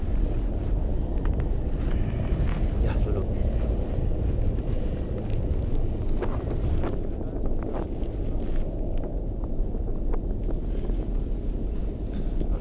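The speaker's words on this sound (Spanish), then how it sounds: "Ahora un poco de viento" Strong wind buffets the microphone high on Chimborazo mountain, a steady, loud roar of rumbling gusts that continues without pause for the whole stretch, with no voices over it.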